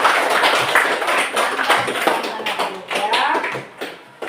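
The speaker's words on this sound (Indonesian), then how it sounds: "Ya, tepuk tangan sekali lagi." A class of students claps after a lesson discussion on zakat, a scattered, uneven burst of hand claps that thins out in patches, with voices mixed in.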